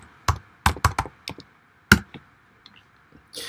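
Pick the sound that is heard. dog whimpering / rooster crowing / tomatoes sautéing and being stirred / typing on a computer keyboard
typing on a computer keyboard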